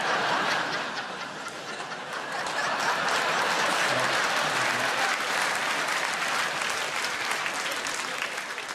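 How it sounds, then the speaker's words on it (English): A large theatre audience at the Royal Variety Performance claps in dense, sustained applause that swells and holds steady throughout, with scattered chuckles mixed into the crowd noise. "Good job you clapped."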